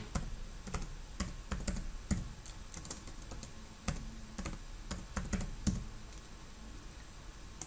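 Typing on a computer keyboard while filling in fields in Visual Studio 2019, close quick key clicks in irregular bursts with short pauses, alone over faint room hum.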